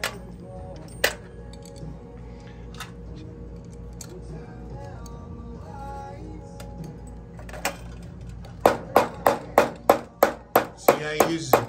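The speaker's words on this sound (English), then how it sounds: "See how he uses a big hammer" A big short-handled hammer strikes steel in a spur-making jig, about nine loud, evenly spaced metallic blows near the end, after a quieter stretch with a few isolated knocks and background noise.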